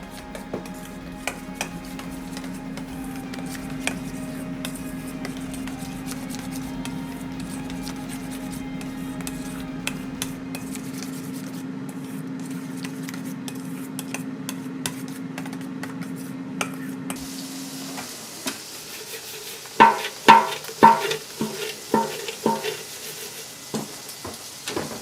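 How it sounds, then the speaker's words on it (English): Potato salad ingredients sizzle in a hot pan over a constant hum, then a utensil stirs with a run of sharp scraping clatters near the end. "I'm just going to stir this up"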